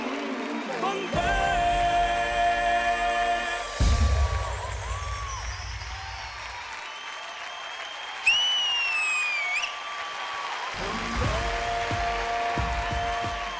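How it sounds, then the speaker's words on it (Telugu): Studio audience applause fills a TV studio on a celebrity challenge show, loud, sustained clapping that swells and dips in waves, with music and tonal effects layered over it. "గట్టి కొట్టండి, కమాన్."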